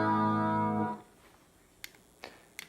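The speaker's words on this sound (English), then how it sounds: "This is with the chorus." A single sustained chord is played through a chorus effect on a SHARC Audio Module, its rich harmonics ringing for about a second before cutting off, followed by a few faint clicks and handling taps.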